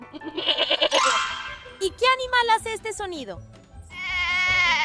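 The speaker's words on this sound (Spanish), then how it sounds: "¡Ah! ¡Es una ovejita esponjosa!" A fluffy sheep bleats in a wavering, drawn-out call near the end of a children's animal-sound guessing song, after an earlier bleating cry and a woman's spoken question in Spanish.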